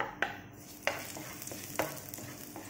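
Onion fries in a hot pan with a steady close sizzle, broken by a few sharp scraping stirs at irregular intervals, with no talking.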